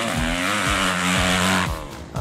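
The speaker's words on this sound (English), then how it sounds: "you can actually hit it harder and rev it a little bit more." A 2009 Kawasaki KX250F four-stroke dirt bike engine revs hard and close, its pitch climbing and dropping in repeated sharp surges over a steady loud buzz, with no voices.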